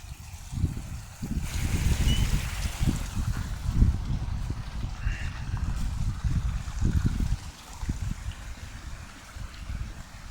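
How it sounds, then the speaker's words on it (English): Water pouring and trickling from backyard aquaponics grow beds down into a sump tank, a steady close splashing flow with uneven surges throughout and no talk. "all of this drains down to the sump"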